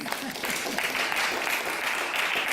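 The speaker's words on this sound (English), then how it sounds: "Can we give them a round of applause?" Sustained audience applause at a transportation master plan oversight committee meeting, a steady wash of many hands clapping for staff and consultants, fairly close and even throughout with no talk over it.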